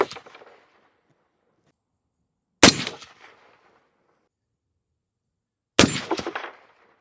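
Three suppressed rifle shots from a POF Revolution .308 piston rifle firing 180 grain bullets on a range, each a sharp loud crack with a short echo, spaced a few seconds apart with silence between them.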